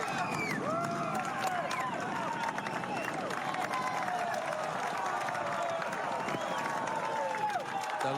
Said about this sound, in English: the noise of the crowd